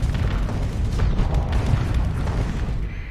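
Missiles launching and exploding in the space combat game Starsector, a dense continuous rumble of booms and blasts with crackling bursts layered on top.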